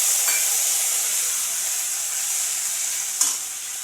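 Cumin, ginger and chili paste hit a hot pan with a splash of water and sizzle in a loud, continuous hiss, broken by a brief sharp burst near the end.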